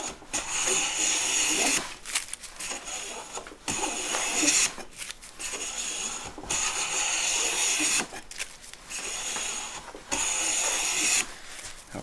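A WoodRiver No. 5 1/2 jack plane takes repeated shavings from a wooden board, each pass a rasping hiss lasting about a second or two, separated by short pauses, close and fairly loud.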